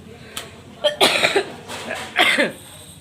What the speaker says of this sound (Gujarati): ઉધરસ એવી થઈ ગઈ.